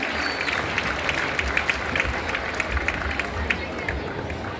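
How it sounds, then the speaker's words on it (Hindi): Audience applause at an Arya Samaj foundation day gathering in Delhi, a dense, steady round of clapping from a crowd that holds at an even level throughout. "तालियों द्वारा उनका बहुत बहुत अभिनंदन"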